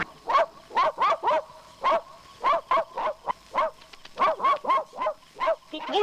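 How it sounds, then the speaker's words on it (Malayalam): A German Shepherd in a Malayalam film barks in a quick run of about twenty sharp, evenly spaced woofs, loud and clear with only a quiet background beneath. "ഇതെന്താ ഈ പട്ടി അവിടെ തന്നെ നോക്കി കുറയ്ക്കുന്നത്?"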